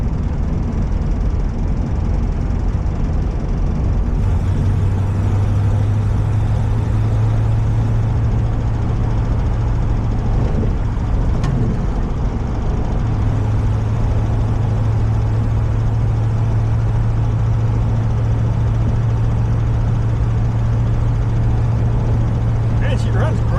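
A 1937 Buick Century's engine drones steadily from inside the car on a test drive, a loud low hum with a sustained tone, and a brief clunk partway through; someone talks over it.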